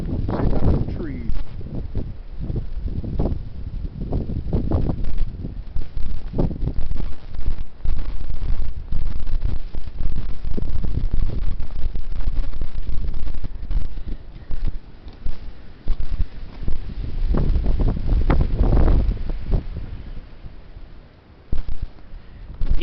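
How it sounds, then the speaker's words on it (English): Heavy wind blowing outdoors among trees, a steady loud rush buffeting the microphone with gusty surges throughout, and a voice talking faintly at moments. "The heavy wind."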